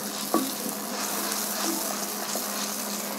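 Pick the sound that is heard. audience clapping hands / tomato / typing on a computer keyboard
tomato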